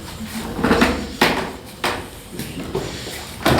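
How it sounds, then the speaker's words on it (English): Old wooden floorboards creaking underfoot in a church tower, a series of close, irregular creaks and knocks with footsteps between them. "These creaking floors kind of make me nervous."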